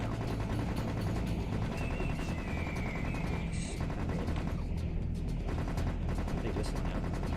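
Dense, continuous gunfire from a gun in the video game Serious Sam Fusion, a steady rapid stream of shots with mechanical clatter, loud throughout with no pauses.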